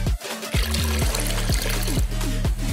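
Cartoon water gurgles and trickles out of a hand-pumped portable bidet, a continuous wet stream under a steady, bouncy musical backing.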